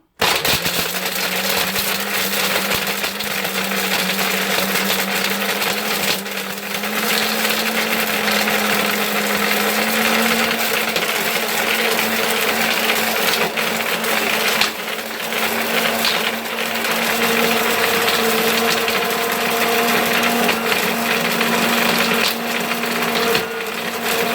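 A blender whirs loudly and continuously for a long stretch, its motor droning with rattling, gritty grinding as dried soap nuts break down into powder.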